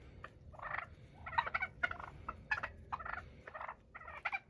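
Semi-tame wild turkeys gobble in repeated rattling bursts, several birds calling close by in quick succession over a low background rumble.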